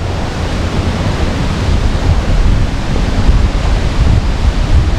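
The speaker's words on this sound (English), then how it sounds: "because of the wind, the umbrella wants to fly." Strong, steady wind buffets the microphone beside the Traunsee lake in Gmunden, Austria, on a rainy day, a loud, dense rushing roar with no talking.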